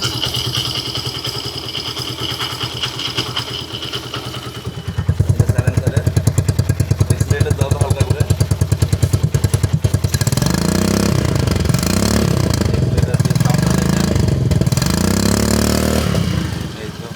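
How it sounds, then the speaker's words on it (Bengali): A modified TVS Victor 100cc motorcycle engine runs steadily up close, shifting from a low idle to a sharper, faster chugging rhythm, then revving with rising and falling pitch. "এটা ইঞ্জিনের সাউন্ডটা শুনে"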